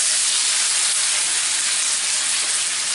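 Potatoes and onions pan-fry in hot oil, giving a loud, steady, unbroken hiss and sizzle throughout with no voices.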